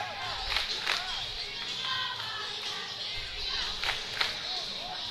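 Rowdy crowd cheering at a high school regional wrestling dual, with a constant roar of many voices, shouts and whistles rising in bursts, while an announcer talks over it.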